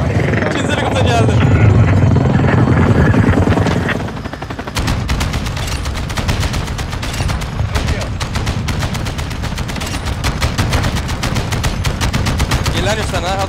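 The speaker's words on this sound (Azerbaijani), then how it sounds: "İkinci helikopter geldi." Dense rapid gunfire and a helicopter in Call of Duty Modern Warfare 2 on the Shipment map: heavy low rumble and bursts for the first few seconds, then loud continuous crackling automatic fire throughout.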